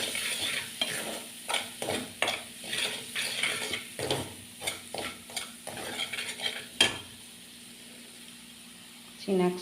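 Potato and pea sandwich filling with spices being sautéed and stirred in a pan, irregular scraping strokes and clinks over a soft sizzle, with someone talking throughout.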